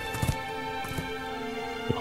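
A horse in the video game Shadow of the Colossus, with a few brief hoof-like thuds over a steady musical drone, fairly faint.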